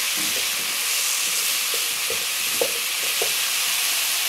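Onions and spices sauté at high heat in a pan, giving a steady broad sizzle with a few soft scrapes and clicks of stirring, close and alone without voices.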